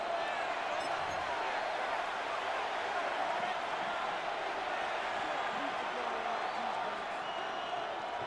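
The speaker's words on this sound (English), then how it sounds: "the crowd getting into it as we come up on a big third down" Stadium crowd noise from a Madden NFL 26 American football game, a steady, dense roar of cheering spectators building ahead of a big third-down play, loud and continuous throughout.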